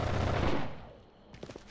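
A short control burst of rifle fire in the video game Rainbow Six Vegas 2, a dense rattling volley that fades within a second, followed by a few faint clicks.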